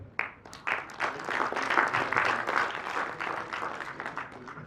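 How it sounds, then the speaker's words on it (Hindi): Audience at a maritime community conference clapping in a round of applause that starts abruptly, swells to a dense, sustained patter and then gradually thins out. "I guess a round of applause."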